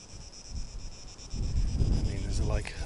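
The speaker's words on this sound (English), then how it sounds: "there's like a light breeze from the wind" A light breeze blows through an abandoned mountain village in Farsa, Kefalonia, rumbling against the microphone in soft gusts that grow stronger partway through, with faint insects in the background.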